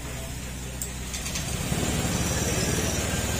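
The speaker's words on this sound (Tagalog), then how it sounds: "Tahimik naman nitong makina nito." A car engine idles after a new water pump, radiator and coolant have been fitted, settling into a steady low rumble that grows slightly louder partway through, heard close by.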